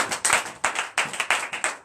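A church congregation claps in acclamation during a French-language night service of deliverance and prophecy, sharp irregular bursts of hand claps close by, about eight or nine quick strikes, with no talking.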